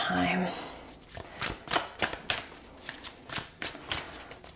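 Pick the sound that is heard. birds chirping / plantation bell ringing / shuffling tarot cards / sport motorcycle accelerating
shuffling tarot cards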